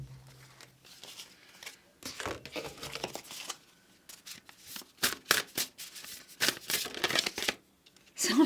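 Tarot cards being shuffled during a pick-a-card reading, with repeated crisp riffling and sliding bursts that come up close and fairly loud between quieter gaps.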